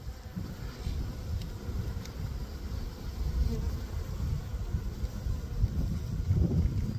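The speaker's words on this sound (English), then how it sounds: "Man, there's a mess of bees in there still." A hive of honey bees hums in a continuous, thick buzz, near and fairly loud, with some breathy wind noise on the microphone mixed in.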